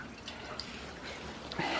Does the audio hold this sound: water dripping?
yes